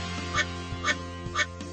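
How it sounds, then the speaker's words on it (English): Cartoon rubber duckies quack in a Paw Patrol water-park racing video game, three evenly spaced squeaky quacks over steady background game music. "Help Blaze collect all the duckies on the speedway to earn tickets for the Splashtastic prize wheel."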